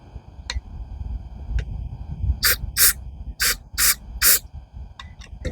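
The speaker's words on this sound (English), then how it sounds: "So just apply the carpet cleaner on, I think it would be right in this hole here." Carpet cleaner sprays in five short hissing bursts into a hole on a green Gardenline hedge trimmer, each burst loud and close after a few light clicks.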